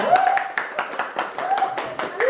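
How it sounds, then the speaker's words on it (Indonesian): Sixth-grade classroom clapping for a group whose electrical circuit experiment succeeded, several separate rhythmic bursts of children's hands alongside a speaking voice, close and fairly loud. "Tepuk tangan untuk kelompok 3."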